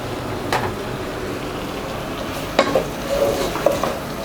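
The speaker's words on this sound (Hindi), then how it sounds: "अब सबसे पहले मैं प्याज ऐड करूँगी, शिमला मिर्च," Onion and capsicum being stir-fried in a pan, a soft continuous sizzle broken by a few sharp clinks and scrapes of a spatula against the metal, with no voices.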